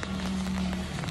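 Rain falls on an umbrella while someone walks through it in flip-flops, a steady close hiss of patter filling the whole short stretch with no speech.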